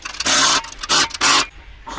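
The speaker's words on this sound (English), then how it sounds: "So here I'm tightening the last." Three loud, even bursts of ratcheting or grinding while parts of an engine stand are tightened, each lasting about a quarter second, close up with short pauses between.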